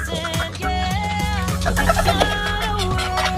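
Chickens cluck and squawk over a steady low hum, several birds overlapping in short bursts close by.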